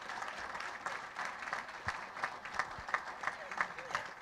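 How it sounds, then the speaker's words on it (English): A school board meeting audience gives a round of applause for art teachers, with moderate clapping from a modest crowd and a few sharp individual claps standing out near the end. "It would be great if we could extend one more round of applause to our art teachers who came out tonight"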